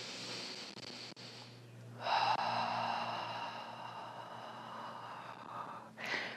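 Heavy exhaling breaths during a prenatal barre workout, a long drawn-out breath swelling loudly midway and tapering off, followed by a shorter breath at the end, close and alone without talk.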